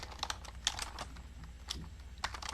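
Fingers type steadily on a computer keyboard, close and crisp, with irregular clicks and a few sharper key strikes over a low background hum, no talking.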